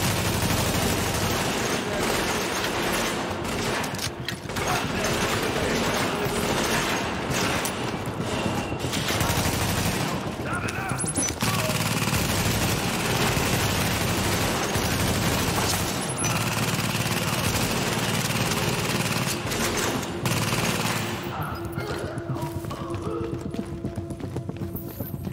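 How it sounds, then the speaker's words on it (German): A weapon in the video game The Division fires in fast, dense volleys at Grand Central Station, sustained bursts of crackling shots over a busy background, with someone talking at times. "Die schießt aber gut, die Waffe."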